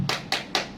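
A group of teachers at a teacher-training workshop claps in a quick rhythmic pattern, three sharp, bright bursts spaced evenly apart, close and clear with no talking.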